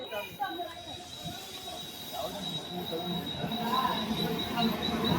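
The interior of a moving train on a trip to Lonavala carries a steady rumble of wheels on rails, a thin high squeal and a murmur of passengers talking nearby, building slightly louder toward the end.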